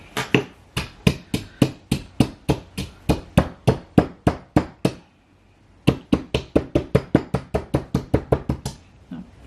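Charcoal pounded by hand for homemade black salt: a steady run of loud, sharp thuds at a regular quick pace, a brief pause midway, then the rhythmic pounding resumes, close and alone.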